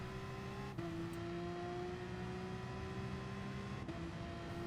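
Porsche 911 RSR Gr. 3 race car accelerating through a corner at Brands Hatch in Gran Turismo Sport, a steady loud engine drone with rising pitch and two brief gear-shift dips.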